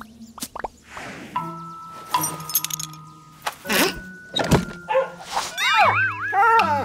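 A cartoon dog barks and whimpers in a few short bursts amid plopping and jangling sound effects, loud and close, with no talking.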